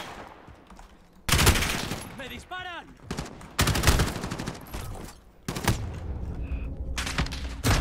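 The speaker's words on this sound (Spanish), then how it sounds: "¿Esto con una escopeta? Sí, una escopeta." Shotgun fire in Call of Duty Modern Warfare: three loud, close bursts of blasts, each cutting in sharply and separated by short quieter gaps.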